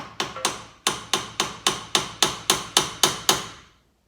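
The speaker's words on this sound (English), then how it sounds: "get your punch and give it a good punch hole." About a dozen sharp metallic hammer strikes on a center punch marking metal for drilling, evenly paced and close, each ringing briefly before the next blow, then silence.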